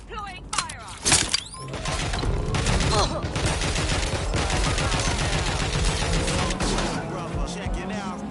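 Gunfire in the open-world game Watch Dogs Legion: a burst of loud shots followed by sustained rapid firing over a busy backdrop of game noise, with voices talking throughout.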